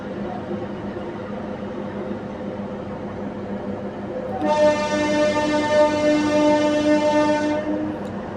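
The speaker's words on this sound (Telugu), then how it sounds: "పెనుగొండ నుంచి మన ట్రైన్ బయలుదేరింది" A DEMU passenger train pulling out of Penukonda junction on the Hindupuram–Guntakal line rumbles steadily, then sounds a long, loud, sustained horn blast that holds for about three seconds before cutting off.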